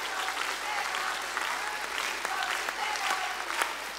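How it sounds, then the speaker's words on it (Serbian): A studio audience on a Serbian television show applauds steadily in support of a guest, a dense, sustained wash of clapping that stays even throughout, with a few louder hand claps standing out near the end. "ovo je veliki aplauz podrške za našeg dragog Žiku"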